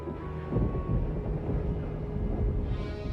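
Thunder from a stormy day rumbles low and continuous, a dense steady roll with no clear breaks and no voices over it.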